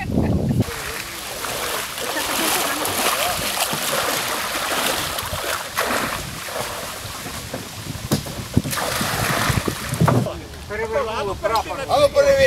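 A wooden Cossack boat is launched and splashes into the Dnipro River with a rush of churning spray and wind, while people shout and talk nearby.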